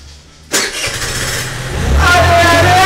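A scooter engine cranks and catches after a short lull, then revs and idles loudly close by, its tone rising near the end as a voice talks over it.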